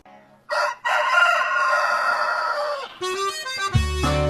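A rooster crows loudly and close, one long drawn-out call, followed by another bird call starting at the end.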